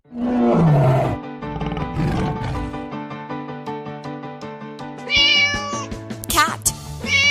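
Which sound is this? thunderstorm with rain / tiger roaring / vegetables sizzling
tiger roaring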